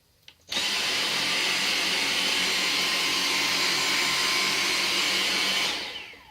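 A Dyson V6 with its motor head switches on and runs over carpet picking up pine needles, a loud, sustained high-pitched whine that holds steady after a sharp start and winds down at the end.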